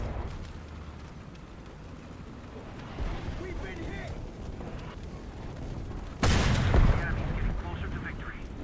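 A tank gun fires in War Thunder-style combat from an M8A1 GMC, a loud broadband boom near the six-second mark standing out over steady engine rumble and quieter earlier thuds.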